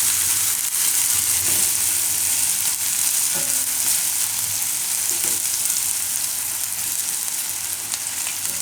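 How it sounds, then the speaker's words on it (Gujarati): Onion and garlic fry in a pan with a continuous, close, even sizzle and occasional faint stirring. "ડુંગળીને થોડીક વાર ફેરવી લે હું આમાં"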